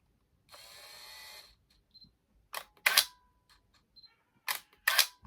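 A Minolta 9000 film camera's motor winder whirs briefly, followed by a series of sharp mechanical clicks and snaps as the film advances, close and otherwise quiet.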